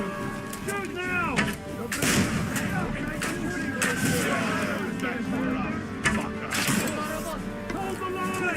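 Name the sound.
gunfire and artillery in a war video game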